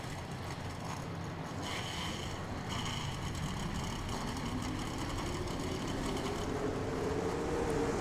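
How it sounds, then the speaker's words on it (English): Stock car engines starting in the NASCAR Racing 2003 video game at Daytona's Gatorade Duel, a steady dense engine roar whose tone slowly climbs as the cars rev, continuous throughout. "Drivers, start your engines."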